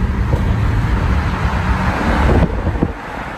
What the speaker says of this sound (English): Been fire with the downshift. You can hear the burbles